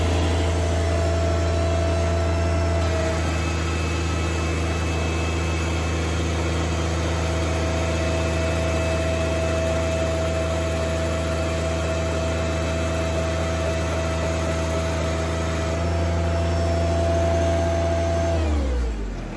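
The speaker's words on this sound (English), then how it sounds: "I figured I'd try one more time at 940 pounds to see how quickly the tractor will raise that" A steady, loud mechanical whine and engine drone holds for nearly twenty seconds as a John Deere compact tractor's three-point hitch lifts 940 pounds, then winds down abruptly at the end.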